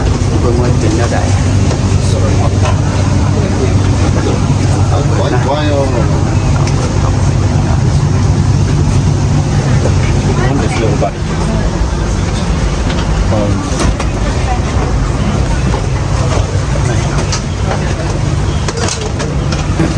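Inside a high-speed train in Laos, a loud constant low rumble and rolling hum fill the cabin, with voices talking under the running noise throughout.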